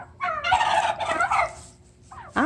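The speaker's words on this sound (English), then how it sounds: "Well, they just gobbled." Farm turkeys gobble close by in two loud, rapid warbling bursts, followed by shorter calls near the end, with no talk over them.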